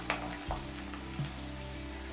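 Diced potato drops into hot oil with frying nigella seeds and dried red chilli, giving a steady close sizzle with a brief louder burst as the pieces go in, no voices.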